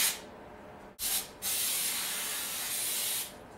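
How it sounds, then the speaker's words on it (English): Pam cooking spray hisses into a meatloaf baking pan in three close, loud bursts: two short puffs, then one long steady spray. "Spray some Pam or whatever baking stuff you have."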